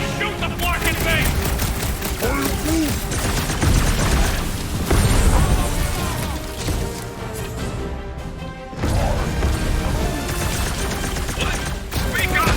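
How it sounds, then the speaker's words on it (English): Dense gunfire and explosive impacts in the Guardians of the Galaxy video game, loud bursts of shots and booms during a fight against a creature, with character voices and music mixed in. "Just shoot the Flark in face!"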